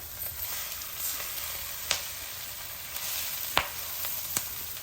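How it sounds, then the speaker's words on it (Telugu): Drumstick leaves fry in a pan with a steady, fairly loud sizzle and crackle, punctuated by a few sharp clicks from stirring, with no voices. "ఇలా వేగుతుందండి మంచిగా కొంచెం బాగా వేగాలి"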